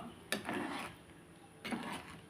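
A spoon scrapes twice through a simmering pot of tamarind curry with elephant foot yam, two brief, quiet stirring strokes about a second apart over a soft background.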